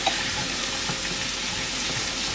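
Ground beef with garlic fries in a pan, giving off a steady, dense sizzle and hiss that holds evenly throughout, with a few small pops and stirring scrapes.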